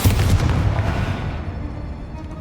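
Bombarda spell explosion in Hogwarts Legacy, a deep booming blast that hits hard at the start and then rumbles away into a fading tail, with no talk over it.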